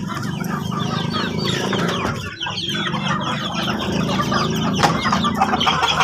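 Village chickens on a free-range farm cluck steadily and overlap in a busy flock chorus, close and fairly loud, with no talking.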